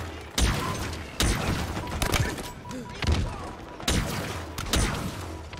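Heatwave weapon fire in Halo Infinite, a series of five loud, sharp blasts at roughly even intervals, each followed by a short mechanical tail, with faint speech underneath.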